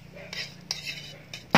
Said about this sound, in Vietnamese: Bây giờ mình sẽ xắt cái lạc xưởng này ra.